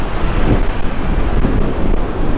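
Strong wind buffets the microphone near a trailer, a loud, continuous rumbling roar of gusts with no pauses and no talking.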